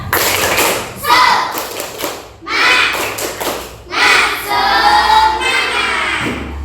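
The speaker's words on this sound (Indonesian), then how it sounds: "Sekarang sebelum pembelajaran coba tepuk semangat." Schoolchildren perform a rhythmic spirit-clapping routine in a classroom, bursts of sharp claps and chanting voices in several loud phrases, with the group's shouted words mixed in.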